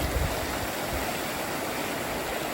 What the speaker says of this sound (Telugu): సో అట్లా పోస్తూ ఆ రివర్ ఫ్లో ఉన్నంత వరకు ఇది తిరుగుతూనే ఉంటుంది